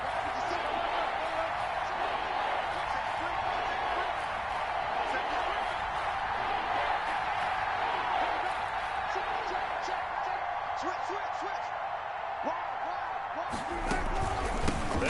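A stadium crowd in a PS4 American football video game roars steadily as a loud, dense wash of cheering and noise, with an announcer's voice speaking over it and a sharp burst near the end.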